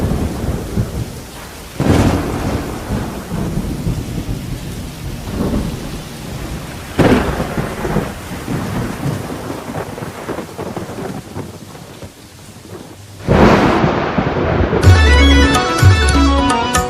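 Recorded rain-and-thunder effect played over loudspeakers for a class 3 school dance at a school festival: steady rain hiss broken by three loud rolling thunderclaps, with melodic music rising in at the end.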